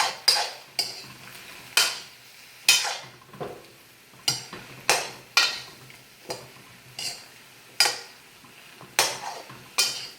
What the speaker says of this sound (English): now we're going to stir fry it some more. Just taking the wok